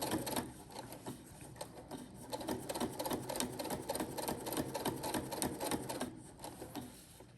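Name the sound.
sewing machine stitching around bowl cozy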